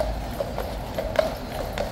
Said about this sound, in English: We've got a big, clippy, cloppy, gorgeous horse named Titan